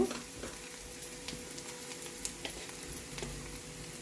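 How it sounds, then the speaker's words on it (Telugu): Turmeric and ground spices frying in a pan for rajma curry, a steady close sizzle with stirring scrapes running through the whole stretch, no talking. "ఇది కొంచెం పచ్చివాసన పోయేదాకా వేయించుకుందాము కొంచెం పసుపు"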